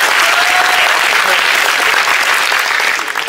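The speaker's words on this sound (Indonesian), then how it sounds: "Boleh tepuk tangan." An audience at a speech in Jordan breaks into loud, dense applause, many hands clapping steadily and fading slightly at the end.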